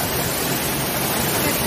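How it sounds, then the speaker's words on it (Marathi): Anandwadi waterfall near Neral, Karjat, close to Matheran, gives a steady, dense roar of falling water that fills the whole stretch evenly and loudly, with no break. "हा धबधबा."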